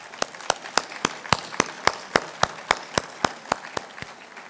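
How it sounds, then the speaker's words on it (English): A room of seated dinner guests at an awards banquet gives slow, evenly spaced claps, about fifteen distinct sharp hits at a steady rhythm, moderately loud and close, with no voices over them. "A round of applause for the preparers"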